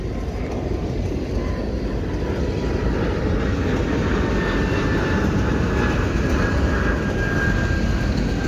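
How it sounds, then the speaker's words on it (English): An airplane taking off near a rail line produces a steady, loud jet roar with a rising whine, sustained throughout without pause. "There's a plane right there,"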